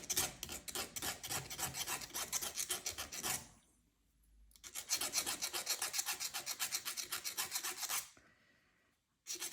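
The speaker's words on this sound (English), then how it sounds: "Now it's time to do both of the inside edges." Metal file rasping steadily along the inside edges of a hammered copper ring, a fast run of close, regular strokes, a short pause, then another long burst of strokes, with no talking.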